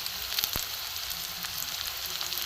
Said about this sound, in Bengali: সব দিয়ে আমি একসাথে এটাকে কষিয়ে নেব।